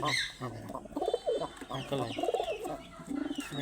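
Pet pigeons coo repeatedly in soft, rolling bursts close to the microphone, while a voice speaks intermittently alongside them.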